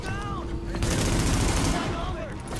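Rapid gunfire in the shooter game The Division, loud and continuous bursts of automatic shots under a voice talking.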